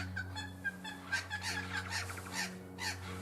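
Birds call in a string of short, honking, goose-like cries over a low steady hum, moderately loud and repeated at an uneven pace.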